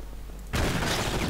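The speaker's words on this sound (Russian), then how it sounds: "стрельба вроде началась" Gunfire erupts in the video game Enter the Matrix, a sudden loud burst of shots starting partway through and continuing as a dense, sustained volley with no talking.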